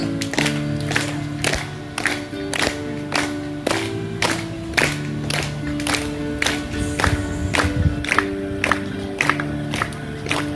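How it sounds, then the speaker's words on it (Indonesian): Church family recreation gathering outdoors with people clapping in a steady rhythmic beat over music, sharp regular claps repeating evenly throughout. "Boleh tepuk tangan ya."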